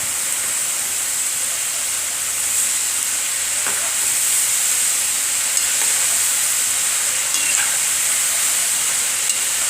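Dhapate and other snacks deep fry in hot oil, a loud continuous bubbling hiss that fills the whole stretch, with a few faint clicks now and then and no speech.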